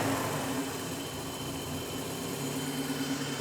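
A 1989 BMW 318i engine running steadily at idle after starting, a continuous close mechanical hum with a faint tonal whine, no voices.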